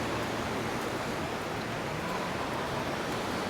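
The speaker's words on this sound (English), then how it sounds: "just listen to those waves" Steady ocean surf along the Playa del Ingles promenade in Gran Canaria, a constant broad rushing wash of waves with no distinct breaks, heard alone at moderate level.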